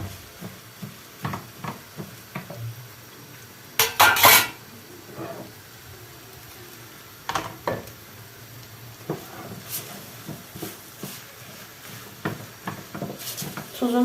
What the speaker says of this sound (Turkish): Kavururken de böyle domatesleri biraz daha bastıralım arkadaşlar